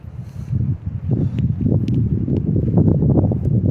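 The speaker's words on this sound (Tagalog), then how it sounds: "Malakas kasi hangin eh, kaya" Strong wind blowing outdoors by barracks in snowy weather, gusting and buffeting the microphone with a continuous low rumble and rustling, fairly loud and close.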